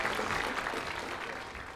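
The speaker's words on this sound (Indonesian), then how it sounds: "Ya tepuk tangan dulu buat Rudy ya." A studio audience at a cooking competition show applauds the judge Rudy, a soft, steady wash of clapping heard at a distance for under two seconds.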